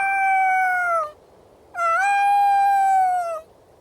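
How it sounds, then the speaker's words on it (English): A puppy in a video game howls up at the moon in two long, clear, tonal howls separated by a short pause, loud and close with no talking. "Puppy is howling up at the moon."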